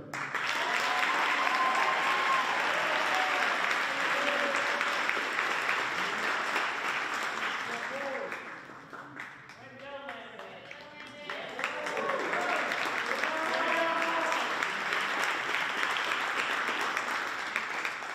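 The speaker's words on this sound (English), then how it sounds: "you can applaud for each student" An audience at a high school spring band concert applauds students one by one, steady dense clapping that dips briefly midway then swells back to full strength.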